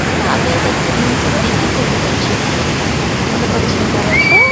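Water rushes steadily over the Nizam Sagar dam on the Manjira river, a loud, continuous broadband roar that holds close and unbroken throughout, with a faint high whistle near the end.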